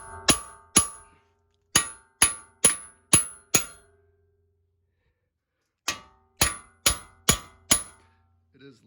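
A hammer strikes a wheel bearing welded into a car's hub, ringing metallic clangs close up: a run of about seven blows, a pause, then five more in steady rhythm.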